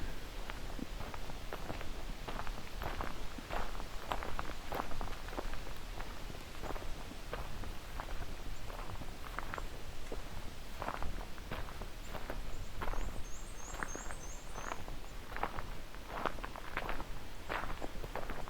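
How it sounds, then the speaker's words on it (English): A black-and-white warbler at Crane Lake in Bruce Peninsula National Park in July sings a thin, very high, bouncy trill, faint and distant over steady footsteps on a trail. "Okay, so we've got black and white warbler here."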